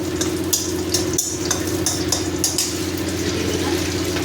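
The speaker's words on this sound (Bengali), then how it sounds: "বড়িটা ভাজা ভাজা হোক" Lentil dumplings (bori) fry in a pan with dried red chillies and bay leaf, giving a close, steady sizzle with a constant low hum and small crackling bursts, and no one speaks.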